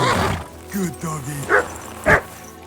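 A dog in the medieval game Kingdom Come: Deliverance II gives a few short barks and yips near the end, after a voice speaks over its whimpering.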